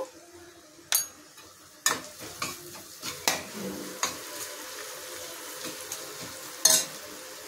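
Onions frying in a pan of oil for a spicy chickpea curry, a soft steady sizzle broken by sharp clinks and scrapes of a spoon stirring against the metal pan, close by with no talking.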